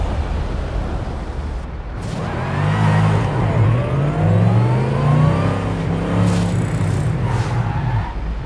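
A Schuppan 3.3-liter twin-turbocharged race car in Forza Horizon 5 revs and accelerates loudly after a quieter start, its engine note rising and falling in pitch across several gear changes, close and sustained with no talk.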